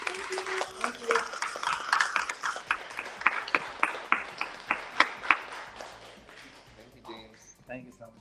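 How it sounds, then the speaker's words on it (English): Audience at a book conference in Manhattan claps after a spoken story, a run of sharp individual claps rising and then thinning out, with voices talking over it toward the end. "a round of applause once again to Jaime Morales for that amazing story"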